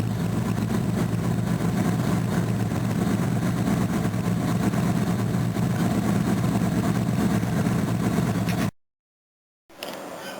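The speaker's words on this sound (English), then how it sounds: "This may be the last start for this battery. Cold start, that is." A car engine on LPG with a nearly flat battery starts cold and settles into a steady low idle that runs for several seconds, then cuts out into a brief silence before a faint rumble returns.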